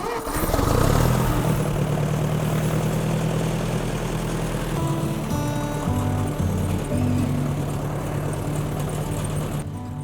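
An old Patriot tractor engine turns over and catches, settling into a rough, steady mid-pitched running drone that continues loudly throughout.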